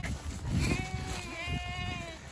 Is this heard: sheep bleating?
yes